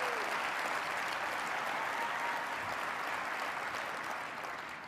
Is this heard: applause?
yes